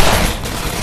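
A dense burst of rapid gunfire in the video game Half-Life 2: Episode One, with overlapping shots packed into under a second and no pauses between them.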